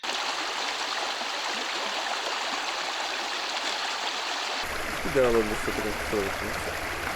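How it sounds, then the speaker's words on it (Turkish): Istırga creek in the Istranca mountains near Dereköy in Thrace, a steady broadband rush of flowing water close by, continuous throughout, with someone speaking over it near the end. "Istrancalar'da Dereköy Istırga Deresi kenarındayız."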